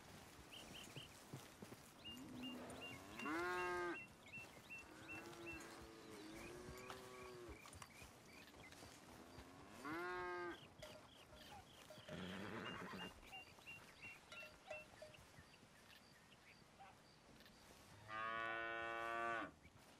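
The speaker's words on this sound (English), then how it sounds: "Cattle. Well, I can see that." Cattle moo repeatedly in Red Dead Redemption 2, several long, drawn-out lowing calls at uneven intervals, some near and loud, others softer, over faint hoofbeats and a quiet outdoor background.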